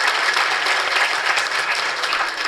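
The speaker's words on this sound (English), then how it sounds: "Let's give them a huge round of applause again." An audience applauds after a traditional Indian dance performance at a cultural event, dense, continuous clapping filling the room with no speech.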